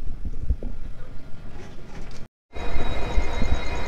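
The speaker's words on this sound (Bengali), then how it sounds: "এখন ট্রেন অনেকক্ষণ দাঁড়িয়ে ছিল কটকের আগে, এখন ট্রেন ছাড়ছে" A passenger special train on the Shalimar–Puri route pulls away after a long halt before Cuttack, giving a steady rolling rumble and rattle of the carriages that drops out briefly, then returns louder.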